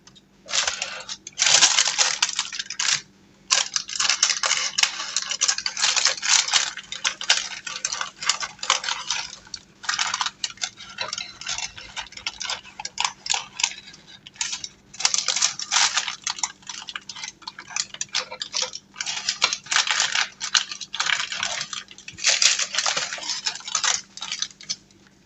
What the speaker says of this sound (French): Et je vais venir découper le tour avec le ciseau.